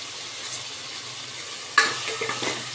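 Drumstick pieces sauté in hot oil with salt, giving a steady soft sizzle that is broken by a sudden scraping stir and a few close clinks of the spoon against the pan.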